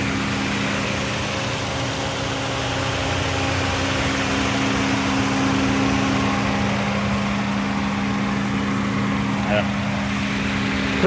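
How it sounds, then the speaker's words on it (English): A 2016 Subaru Outback Limited idles steadily with its air-conditioning fans whirring, a constant low engine hum and fan drone holding level throughout, with a brief faint tick near the end. "I got the AC on. The AC fans are spinning"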